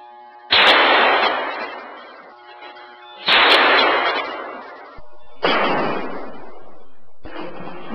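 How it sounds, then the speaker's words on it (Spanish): Rifle shots from an AK-47 fired at a Secure Laminates armor panel during a ballistic test, four loud, sharp blasts spaced a couple of seconds apart, each ringing out with a long decaying echo, with no talk. "Se procede a disparar en la parte superior, tres tiros AK-47, parte inferior, bola roja"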